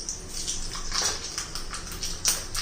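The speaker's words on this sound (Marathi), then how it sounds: "तेल आता आपलं गरम झालेलं आहे. त्यात मोहरी घालायची थोडीशी." Mustard seeds crackle and spit in hot oil as a tempering for chutney, with curry leaves and cumin nearby. Dense, close crackling and popping continues throughout, with a few louder pops.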